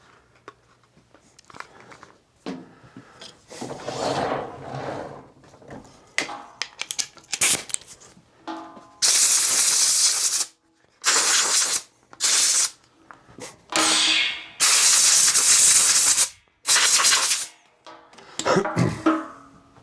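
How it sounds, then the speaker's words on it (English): Compressed air blasts clean a carburetor gasket on a Honda HRB216 push mower, coming in several loud, hissing bursts of a second or two each, broken by quieter handling and rubbing noises. "I'm gonna blow that out with compressed air"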